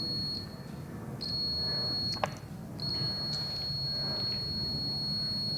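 A multimeter beeps during a continuity test, giving several steady high-pitched tones of varying length with short gaps, fairly faint over a low background hum.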